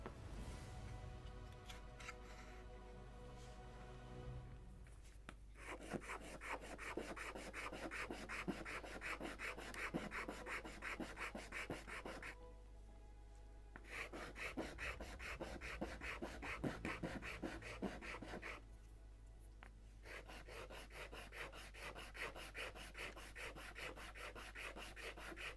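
Sandpaper rubbing against the wooden skeleton of a 1:76 Model Shipways Mayflower (1620) kit, a close, steady rasping scrape in quick back-and-forth strokes, broken by two short pauses.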